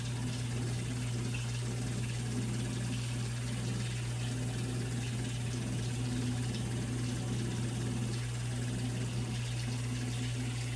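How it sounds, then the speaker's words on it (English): Tap water runs steadily into a sink during a handwashing demonstration, a continuous low rushing hiss with a constant hum beneath it and no talk. "so I'm just gonna go ahead and wash up to my wrist area"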